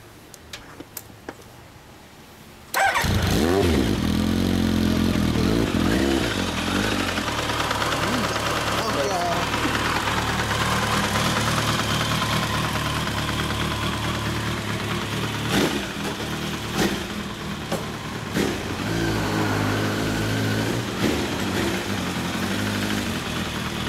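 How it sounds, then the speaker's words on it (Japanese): A 1993 Kawasaki GPZ900R Ninja A10 motorcycle fitted with a Techsurf exhaust starts up and runs steadily, a loud, close, continuous engine rumble with slight rev variations. "あのテックサーフのサウンド聞かせてもらえますか？"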